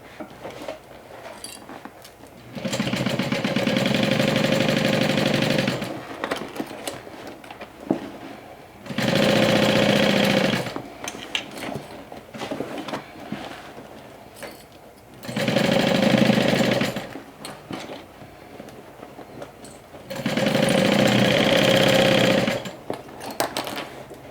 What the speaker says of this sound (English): Let's sew it with a 1/2 inch seam allowance.